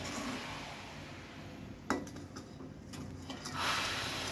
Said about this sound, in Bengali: আমি কিন্তু অনবরত নেড়ে দিচ্ছি